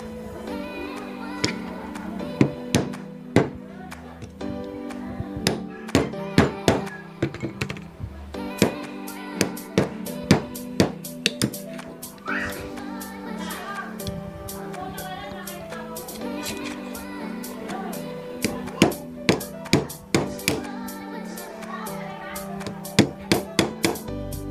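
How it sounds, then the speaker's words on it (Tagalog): A hammer taps a bushing down onto a bearing with light, repeated knocks, sharp clicks landing irregularly over a steady bed of background music. "Dahan-dahan yung pagpukpok"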